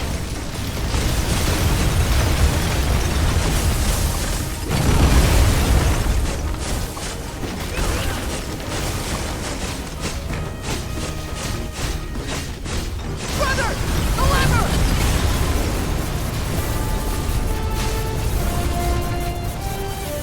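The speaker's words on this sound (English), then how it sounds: "including explosions." Repeated explosions boom through a chaotic boss fight in the video game God of War: Sons of Sparta, loud bursts and crashes mixed with mechanical clatter and game music, no talking.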